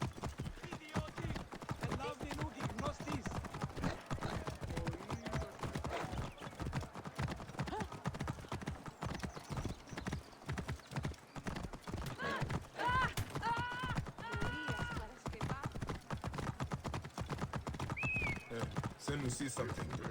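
A horse's hooves clip-clop in a steady rhythm as Bayek rides through an ancient game world, close and continuous, with occasional voices speaking over the hoofbeats.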